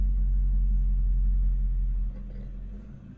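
A 1965 El Camino driving on the road, with a loud, close low engine and road rumble that holds steady and then drops in level near the end, and no talk.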